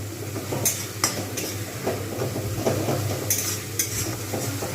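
Spice paste sizzling in oil in a pan for Bengali-style pabda fish curry, a loud steady fry with repeated scraping stirs and spoon knocks against the pan at irregular intervals, close up and without talk.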